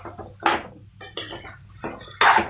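A spoon clatters against a metal pot while rock salt is stirred into a tomato and red chili pachadi, a few sharp scraping clinks spaced irregularly, close and alone.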